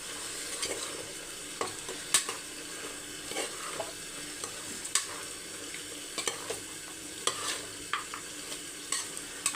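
A spoon stirs mutton curry with spices and tomato in a pan, scraping in irregular strokes with sharp clinks against the metal over a soft, low sizzle, close and fairly quiet.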